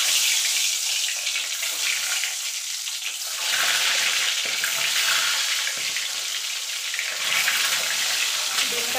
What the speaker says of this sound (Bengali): ডিমটা হালকা করে ভেজে নেব।